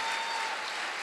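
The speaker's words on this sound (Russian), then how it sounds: "Ваши аплодисменты." Audience applause for a young woman introduced on stage at a gathering, a brief, quiet burst of dense clapping heard from some distance.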